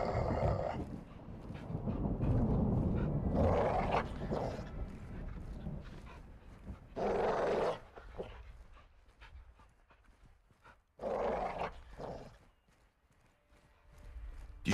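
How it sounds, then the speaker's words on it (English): A caged dog in Call of Duty Modern Warfare 2 (2022) pants, growls and gives bursts of barking, loud and close, with quieter gaps between outbursts. "Do you see the caged dog?"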